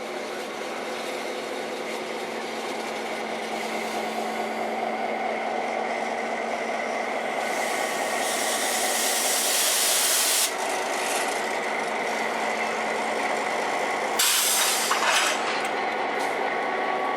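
A train pulls out of Heber, heard from on board. A steady rolling rumble and grinding wheel noise carry throughout, with bursts of hissing air at two points.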